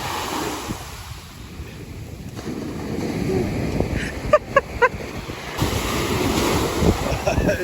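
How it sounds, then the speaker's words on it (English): Ocean surf breaks continuously on a beach at Boa Vista, Cape Verde, a loud rushing wash of waves mixed with heavy wind buffeting the microphone and a few sharp knocks partway through. "Check out the gnarly waves"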